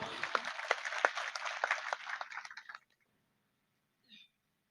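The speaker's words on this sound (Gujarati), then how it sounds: "તાળીઓથી વધાવો." An audience at a village gathering honouring a donor claps in a loud burst of dense applause that stops abruptly, followed by silence and a brief faint noise near the end.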